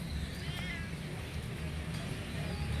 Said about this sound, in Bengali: মিয়াও